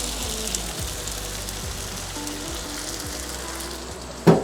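Sandwich rolls toast on a griddle with a continuous, close, crackling sizzle and a faint hum underneath, ending in a short knock.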